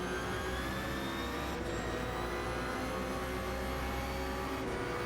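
Ferrari 499P hypercar engine in Gran Turismo 7, heard from the cockpit as a steady, sustained high-pitched drone with whining harmonics, holding an even level throughout with no talk.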